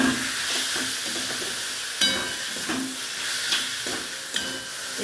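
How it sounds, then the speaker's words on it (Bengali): A mushroom curry with chili powder and sugar is stirred and fried in a pan, giving close sizzling with repeated scraping stir strokes at irregular intervals. "আর দেবো একটু মিষ্টি, চিনি দিয়ে ভালো করে কষিয়ে"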